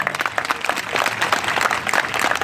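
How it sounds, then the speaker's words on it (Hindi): An audience at a Hindu gathering in Sonalipuram, Roorkee, breaks into loud, dense applause, a continuous patter of many hands clapping that fills the whole moment. "एक बार जोरदार तालियां बजा"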